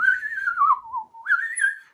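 A man whistles in imitation of a barber's heavy, warbling whistle: a single continuous tone that slides downward, dips, then jumps back up and wavers for about two seconds with no other sound.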